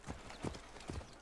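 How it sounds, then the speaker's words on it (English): Horse hooves in Assassin's Creed Origins clip-clop in three quick, faint, evenly spaced steps. "Can we see this horse?"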